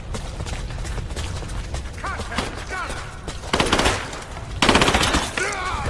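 Rapid bursts of automatic gunfire crackle in a firefight in Rise of the Tomb Raider, several loud volleys layered over ambient battle noise, with shouted voices mixed in.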